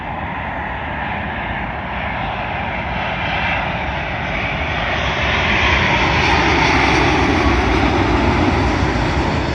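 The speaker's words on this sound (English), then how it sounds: "Arriving in now is British Airways Boeing 787, I believe it is, working a service also from Abu Dhabi to London Heathrow." A British Airways Boeing 787 from Abu Dhabi lands on runway 27L at London Heathrow, its jet engines giving a loud, continuous roar that swells gradually as it passes near.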